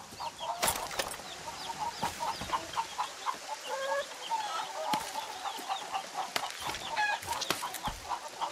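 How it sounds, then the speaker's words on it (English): A fighting rooster in a Far Cry 6 farm scene clucks repeatedly in short bursts, with a few crowing calls and sharp bird squawks over a low outdoor ambience, close and moderately loud. "It's my fighting rooster, El Gallo Magnifico."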